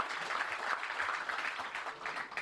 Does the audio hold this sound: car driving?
no